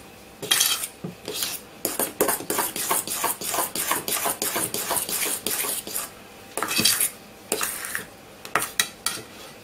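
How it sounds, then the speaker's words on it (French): Whisk or fork beating eggs into a zucchini batter in a bowl, with rapid clattering scrapes against the bowl in quick repeated bursts, close and loud, pausing briefly before resuming. "Et vous allez battre l'ensemble."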